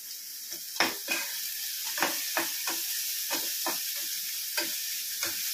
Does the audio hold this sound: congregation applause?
no